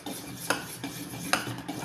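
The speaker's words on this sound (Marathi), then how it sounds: "आता हे बॅटर आपण चांगलं फेटूया." A utensil whisks sweetened yogurt batter for dahi vada in a bowl, with soft scraping and stirring sounds and two sharp clinks against the bowl's side.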